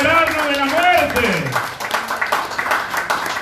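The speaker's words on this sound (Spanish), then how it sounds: "¡Dale un aplauso a Dios, porque esa es la obra de Dios!" A church congregation applauding during a sermon: a voice calls out loudly, then scattered, uneven clapping spreads through the room for the last couple of seconds.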